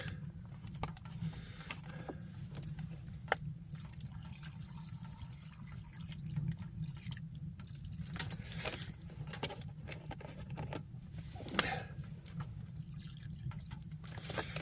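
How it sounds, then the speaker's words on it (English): Water pours steadily into a cooking pot at a cold winter campsite, a continuous soft trickle and patter with a few brighter splashes, fairly close and with no talking. "I add lots of water because that way it can boil down"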